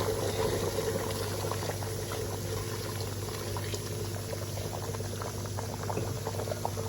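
A pot of degi mutton masala with about 1.5 litres of added hot water boils steadily, with a dense, close bubbling and a low hum underneath, and no talking.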